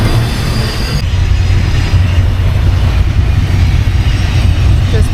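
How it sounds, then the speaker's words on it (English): A train rolls past a boat pulling out of port near an island, a steady loud low rumble of rail cars filling the whole stretch without any voices. "There's the end of the train."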